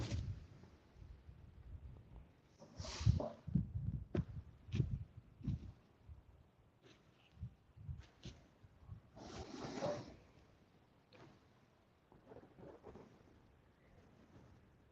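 Gusty wind buffets the microphone outdoors at night while catfishing, low rumbling bursts swelling and fading irregularly, loud at times and otherwise a faint background rush.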